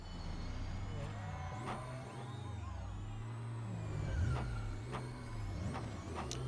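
Tesla car in the Need for Speed: Pro Street racing game giving off a deep, truck-like engine drone instead of an electric whine, steady and loud, with a few brief higher tonal bursts and faint voices in the background.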